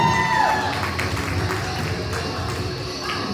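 Guests at a baby shower clap in a steady, dense patter that runs throughout, mixed with crowd murmur and a voice or two in the background.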